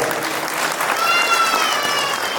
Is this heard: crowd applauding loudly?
yes